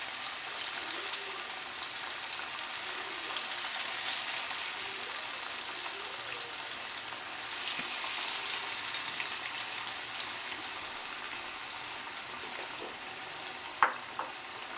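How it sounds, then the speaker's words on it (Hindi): Pieces of fish frying in hot oil, a steady soft sizzle and crackle running throughout, with a brief sharp pop near the end and no talking. "तो अब मैं फ़िश को एक एक करके ऑयल के अंदर डालती जाऊंगी।"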